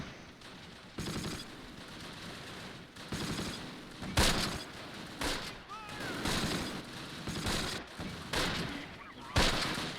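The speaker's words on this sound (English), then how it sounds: "Mortar's falling here." Mortar barrage explosions and battlefield gunfire in the Close Combat wargame, set around Oss near Arnhem in September 1944, with repeated sharp bursts and crackling volleys across the scene at moderate loudness.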